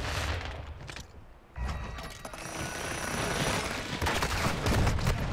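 Lockwood MK2 rifle fire in Call of Duty: Modern Warfare during a 6v6 match, dense crackling shots and mechanical clatter from a busy firefight, loud and continuous across the clip with no talk.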